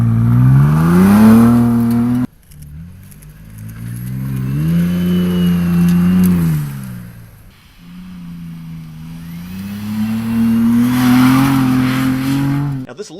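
A Ford Bronco Raptor's loud engine revs repeatedly in close bursts, the growl climbing and falling with brief pauses between pulls.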